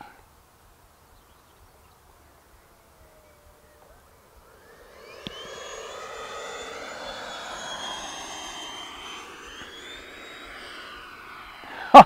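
An HSDJETS F-86 RC jet with a 120mm electric ducted fan is heard after near silence: a whining, rushing fan sound rises at about five seconds and holds at moderate distance as the aircraft flies and climbs.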